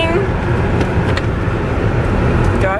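Steady engine and road rumble inside a moving car, with voices speaking over the continuous drone.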